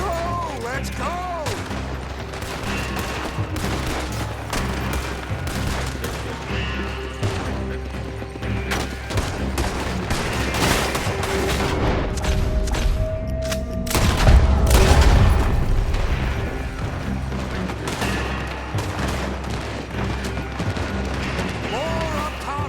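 Rapid gunfire rattles through an intense Red Dead Redemption 2 shootout, with dense, continuous volleys and heavy booms building to a loud peak midway, while voices shout orders over the din.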